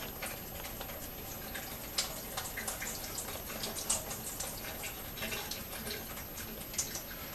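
Water trickling from sprouting grains and beans through cheesecloth into a strainer over a sink, a faint, continuous patter with scattered light drips and ticks.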